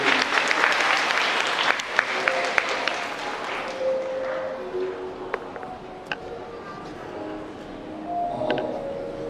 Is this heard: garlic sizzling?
no